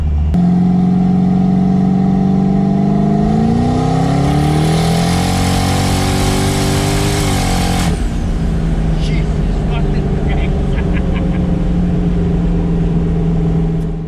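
Twin-turbo 700 hp 8-rotor Mazda RX-7 roars loudly through a rolling-start pull, pitch climbing steadily for several seconds before an abrupt drop as it shifts or lifts, then a rough burbling idle with faint crackles.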